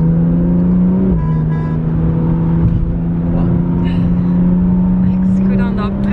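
Car engine droning steadily and loud from start to finish, its pitch shifting as the vehicle pulls away and gathers speed, with a voice talking over it.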